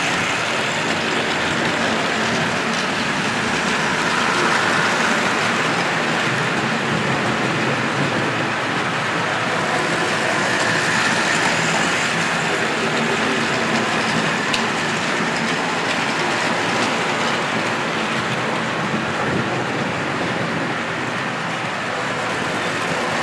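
Four model steam locomotives by Hornby, Triang, Bachmann and Rivarossi running together on a layout, a dense continuous rolling rumble and rattle of wheels on track, steady and fairly loud with no talking.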